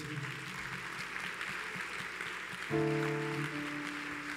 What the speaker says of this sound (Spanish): Levanta un aplauso más fuerte a nuestro Dios.